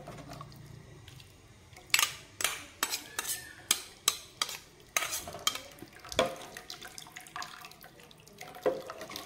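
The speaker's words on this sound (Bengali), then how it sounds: "ছানাটাকে সুন্দর করে ভালো করে ধুয়ে নেব।" Fresh chhana (cottage cheese) rinsed with water for kalakand in a home kitchen: a run of sharp splashes and sloshing scoops at an uneven, quick rhythm, close up over a faint background.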